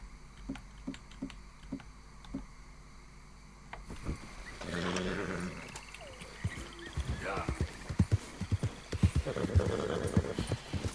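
In Red Dead Redemption 2, rhythmic clip-clop of horse hooves, then a horse whinnies and snorts amid rustling movement, with hoofbeats continuing close by.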